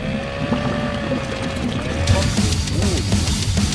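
A motorboat engine in a video game drones steadily, its whining pitch sliding up and down, with a breathy wind-like hiss over it.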